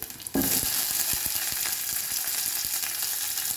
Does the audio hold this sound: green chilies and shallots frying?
yes